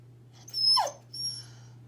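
An eager female dog whimpers in short, high, thin whines, two brief cries close to the microphone over a low steady hum, with no talking.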